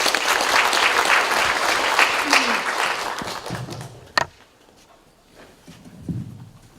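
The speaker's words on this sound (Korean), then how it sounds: "큰 박수로 모시겠습니다" A conference hall audience at a Buddhist academic seminar bursts into full applause welcoming a professor, loud and dense for about three seconds, then tapering into a few scattered claps and soft thumps.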